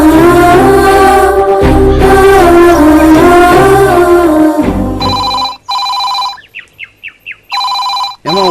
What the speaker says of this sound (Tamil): ஏமா புருஷமா ஃபோன் பண்றான்,